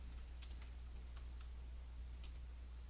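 Quiet computer keyboard typing, a handful of light scattered key clicks in short bursts over a steady low hum, no voices.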